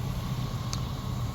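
A Chevrolet Suburban four-wheel-drive engine idles in a steady, low, even rumble that holds without change for the whole moment.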